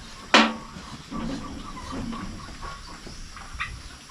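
Male goats in a farm pen, one sharp loud call near the start followed by quieter, scattered bleats and shuffling through the rest.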